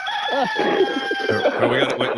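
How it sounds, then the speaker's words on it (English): A rooster crows once nearby, a drawn-out strained call over a steady background hum, with a voice starting to talk toward the end. "Yeah, I did hear a rooster."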